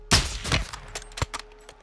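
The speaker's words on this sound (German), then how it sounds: "Sir, sie schießen zurück." Enemy gunfire in the shooter game Modern Warfare II, several sharp, loud shots and bursts up close, with a few fainter reports trailing off afterward.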